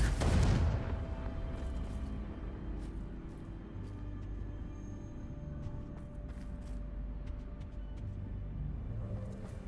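A Confringo fire spell explosion in the video game Hogwarts Legacy, a sudden loud boom at the start fading into a long low rumbling tail with scattered small crackles.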